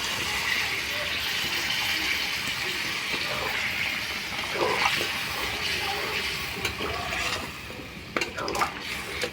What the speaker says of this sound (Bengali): এবার দিয়ে দেব মশলা ধুয়ে নেওয়া জল এবং নর্মাল জল।